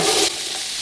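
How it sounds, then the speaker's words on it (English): Vegetable mixture dropped into hot peanut oil in a pan for chili, a loud burst of frying sizzle that eases after a moment into a steady softer hiss. "Then we're going to go in with our vegetable mixture."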